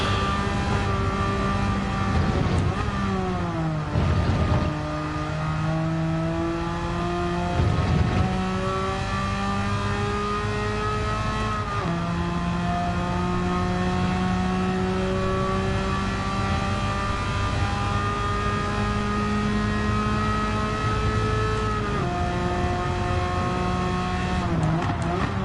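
A sports car on road tires races in the video game Gran Turismo 7, its engine climbing steadily through gears with several abrupt shift drops and brief bursts of tire noise, loud and continuous without speech.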